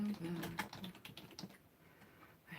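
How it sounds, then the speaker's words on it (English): Quiet clicking of keys on a computer keyboard, a short uneven run of taps that thins out toward the end, heard close up with some faint voice in the background. "Oops, I can't even type."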